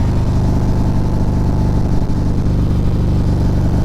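A motorcycle engine hums at a steady, even pitch while riding, a continuous close drone with no speech over it.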